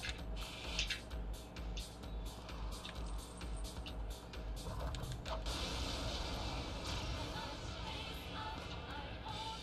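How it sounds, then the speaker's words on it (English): A door in a video game creaks open with a long grinding, scraping creak, broken by sharp mechanical clicks over a steady dense background. "Oh, I need to open this door."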